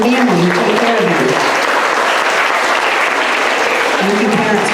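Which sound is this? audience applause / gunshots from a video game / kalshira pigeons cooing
audience applause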